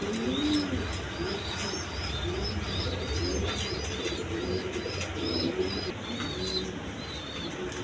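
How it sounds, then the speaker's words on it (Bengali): Several German Shield pigeons coo in a loft, with repeated soft, rolling calls close by, over a steady bed of chirps and chatter from other birds. "এখানে এক পেয়ার জার্মান সিল আছে, দেখেন জার্মান সিল কবুতর"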